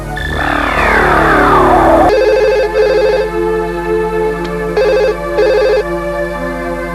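A telephone rings loudly: a falling electronic tone followed by repeated bursts of ringing with short pauses between them.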